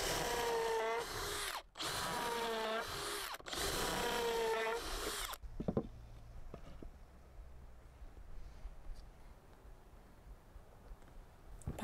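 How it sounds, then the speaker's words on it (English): Drill driving pocket screws into wood while building an outdoor table, two loud whirring bursts that rise in pitch, then quieter clicks and light shop handling noises. "Pocket screws are notorious for moving at the last few millimeters when you screw them in"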